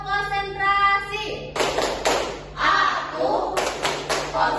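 A classroom group claps the Indonesian 'tepuk konsentrasi' pattern, with bursts of clapping in short rhythmic clusters between stretches of chanted voices.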